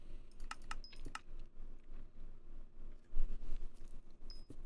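Typing on a computer keyboard during a modded Minecraft skyblock session, quick clicky keystrokes in short irregular bursts, close and moderately soft, with no talking.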